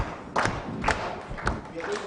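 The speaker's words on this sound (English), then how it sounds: "So we are going to clap 5 times." A panel-discussion audience claps together in unison, a handful of sharp, evenly spaced group claps against a quiet room.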